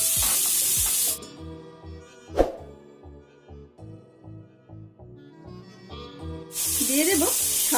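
Diced potatoes frying with prawns in a pan, a loud hiss at the start and end with a quieter stretch of stirring knocks and a single sharp clank between.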